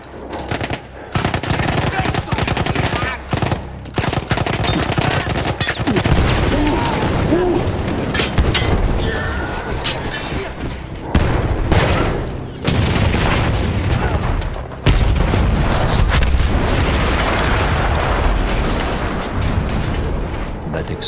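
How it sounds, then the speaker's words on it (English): Loud, continuous battle noise in the video game Battlefield 1, with heavy booms and rapid bursts of gunfire, a large explosion of a blown-up gun rumbling through the dense chaos. "That explosion was one of the sweetest sights of the war for me."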